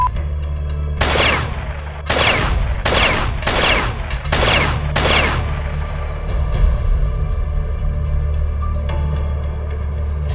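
Gunfire in a TV drama scene: five loud, sharp gunshots in quick succession at roughly one-second intervals, close and echoing, followed by a low rumbling background.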